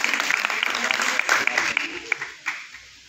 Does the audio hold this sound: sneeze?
no